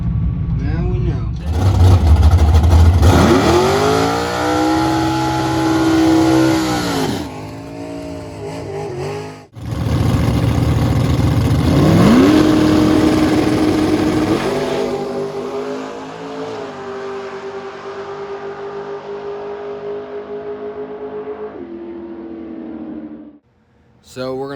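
A drag race car with a 434 engine roars at US 36 Raceway, loud and close, revving hard in rising sweeps, dropping briefly, then launching again into a long sustained pull that fades into the distance.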